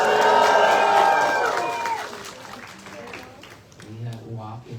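A large crowd at a Walk for Peace gathering in Virginia cheers and claps loudly at first, then the applause thins and fades, with voices talking underneath as it dies down.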